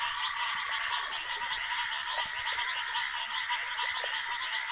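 Foam frogs call in a dense, continuous chorus during the rains along the Zambezi, with overlapping croaks and trills blending into a steady wall of sound at a moderate distance.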